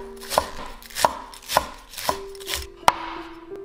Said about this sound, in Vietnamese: Hành lá mình sẽ cắt khúc. Phần lá xanh thì mình cắt nhuyễn.